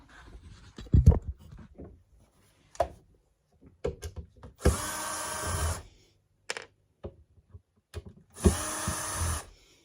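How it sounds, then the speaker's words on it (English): A power screwdriver undoes screws on a Positive Grid Spark 40 speaker to remove its drivers, two loud whirring bursts of about a second each after scattered handling clicks and knocks, close up with no talking. "next thing we're going to do is undo these screws and take these drivers out"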